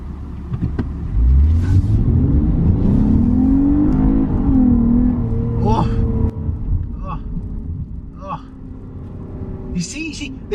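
A Lexus IS350 V6 in sport mode accelerates hard, its engine note climbing and holding a gear near 4,000 RPM as a loud, rising drone, then easing off while people talk inside the cabin.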